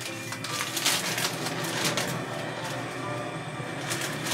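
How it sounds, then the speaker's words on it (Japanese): A kitchen ventilation fan runs as a steady broadband whoosh through the whole stretch, with faint clicks and handling noises of someone putting away groceries nearby. "換気扇つける。"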